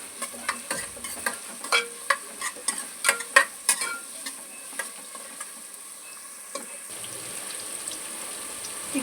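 Onions sizzling in oil inside a pressure cooker for a curry-leaf chicken fry, with a steady frying hiss and repeated sharp scrapes and knocks of a stirring spoon against the metal, close and alone.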